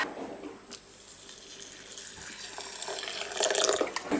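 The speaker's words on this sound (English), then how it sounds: "I've also poured myself some water." A kitchen tap runs while a glass is filled with water, a steady close hiss of flowing water that rises in pitch and brightens toward the end as the glass fills, with no talking.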